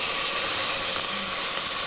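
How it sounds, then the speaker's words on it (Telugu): Washed amaranth leaves are dropped into a hot tempering, giving a loud, steady steam-like hiss close by for a couple of seconds with no voices. "ముందుగా మనం కడిగి పెట్టుకున్న తోటకూరను నీళ్లు తీసేసి పోపులో వేసుకోవాలి."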